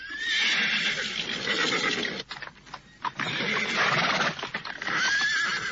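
Horses neigh and whinny loudly, with clip-clopping hooves and shuffling as riders dismount, a brief lull midway before more close whinnies follow.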